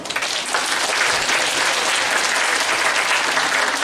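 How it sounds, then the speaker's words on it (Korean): A concert hall audience at a youth music event breaks into dense, sustained applause that holds at an even, full level throughout. "뜨거운 박수 한번 주십시오"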